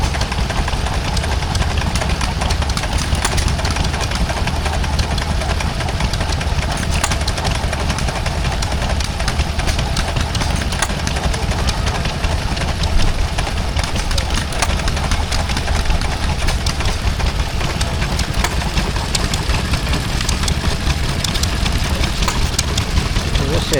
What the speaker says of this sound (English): That's a Wolseley stationary engine. It's powering a Compactum double acting water pump there.